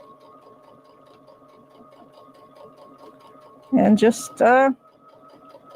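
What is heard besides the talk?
sewing machine sewing fabric in a circle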